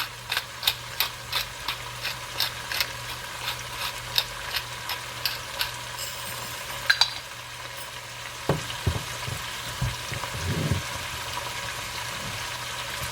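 Noodles stir-fried with soy sauce, black pepper and salt sizzle steadily in a pan, with rhythmic ticking scrapes of a utensil early on and heavier stirring clatter later, close and alone.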